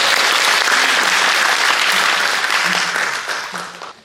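An audience at a Korean policy debate forum on disability residential facilities bursts into loud, dense applause that holds steady before tapering off toward the end.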